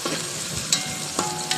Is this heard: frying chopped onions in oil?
yes